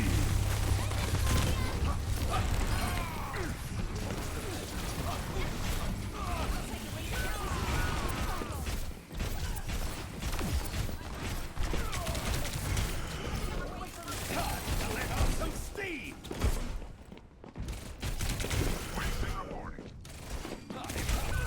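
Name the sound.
turret under gunfire in the video game Overwatch 2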